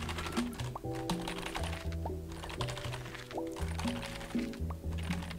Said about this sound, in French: Le bruit des touches de clavier, je sais pas, c'est un son qui m'a toujours relaxé